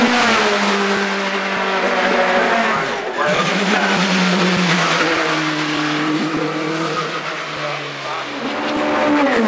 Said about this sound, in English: Jill Marshall is first away in this 1994 Dallara Formula 3 chassis with Vauxhall power unit